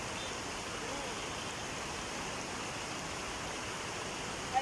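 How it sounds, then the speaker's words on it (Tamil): Steady, dense rush of water overflowing from Thusur Lake in Namakkal district, spilling over like a waterfall, continuous and fairly loud with no pauses. "தண்ணி வலிஞ்சிருக்குது."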